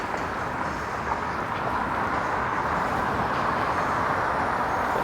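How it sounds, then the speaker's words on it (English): A GO train rolls into Union Station in downtown Toronto, a steady distant rumble of rail traffic blending with city noise, continuous and even throughout. "it's another GO train rolling into Union Station from the suburbs"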